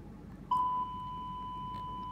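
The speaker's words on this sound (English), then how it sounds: "there goes the bell" A school bell rings once, a steady electronic tone that starts abruptly and holds on through the rest of the moment over a quiet room hum.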